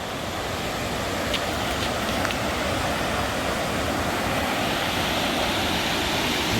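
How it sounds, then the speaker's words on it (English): Whitewater rapids on the Tyee River roar in a steady, dense broadband rush that stays constant and loud throughout, with no voices over it. "This is the Tyee River."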